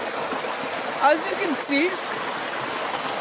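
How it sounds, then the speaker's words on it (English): Natural outdoor stream in the wild Northwest of America, flowing steadily as a soft, constant rushing wash of water beneath a man's brief spoken phrase. "I've come to a natural water source."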